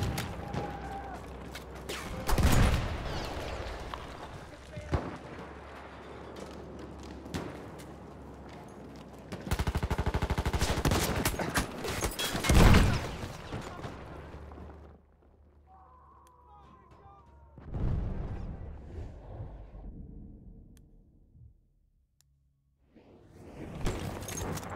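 Machine gun fire in the Battlefield 1 video game comes as bursts of rapid shots and blasts that rise and fall, with whooshes and combat noise, loud then fading to quiet gaps.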